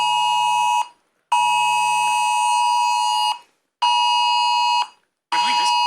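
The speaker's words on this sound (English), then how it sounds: "This is a test of emergency alerts." A Samsung S9 phone sounds the UK emergency alert test tone, a loud, piercing two-tone alarm close by, blaring in long bursts separated by short silences, with faint background talk during the last burst.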